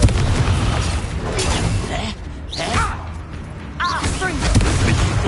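Confringo explosive spells go off in Hogwarts Legacy, with loud booming bursts and crackling blasts through dense, continuous combat noise, joined by a few brief whooshing spell effects.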